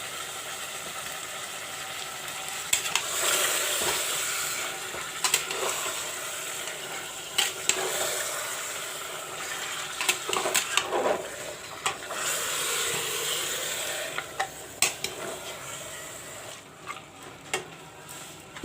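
Mutton and potato curry stirred in a pan, with repeated spoon scrapes and knocks against the metal over a steady low sizzle, close by and with no talking.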